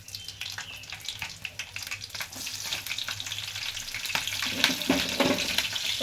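Chillies frying in a hot pan crackle and pop continuously, a dense close sizzle with sharp snaps that grows busier toward the end, with no talking.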